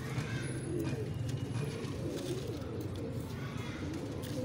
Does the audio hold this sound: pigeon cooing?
yes